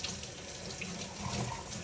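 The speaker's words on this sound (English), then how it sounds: "now you're going to hear me running water because I'm going to rinse this little sock out" Tap water runs steadily into a sink while a small leather key holder is rinsed of soap, a constant close splashing hiss with no voices.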